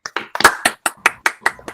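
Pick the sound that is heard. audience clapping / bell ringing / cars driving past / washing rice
audience clapping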